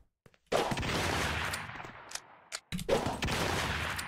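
A burst of gunfire rings out in a Roblox Murder Mystery game, with a loud crackling shot that decays, a short gap, then another sharp blast fading out.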